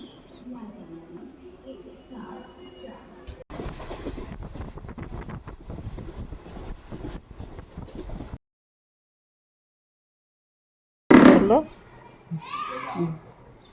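Steady rumble and rattle of a passenger train carriage in motion on the way to Kolhapur, noisy with wind buffeting the microphone, followed by a sudden silence and a short burst of voices near the end.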